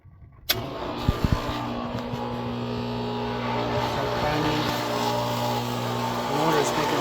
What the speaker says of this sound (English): The motor's making a lot of noise